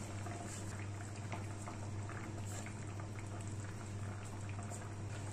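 Kerala-style horse mackerel fish curry (mulakittathu) simmering and thickening in a pot, a faint, steady bubbling that holds evenly throughout with no voices.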